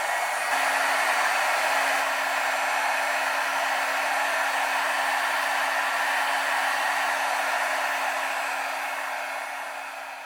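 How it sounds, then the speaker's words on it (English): Heat gun drying embossing on a handmade card, a loud steady blowing hiss with a constant motor hum that holds for about ten seconds before tapering off slightly. "It's a great heat gun"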